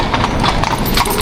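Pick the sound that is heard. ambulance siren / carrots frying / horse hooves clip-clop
horse hooves clip-clop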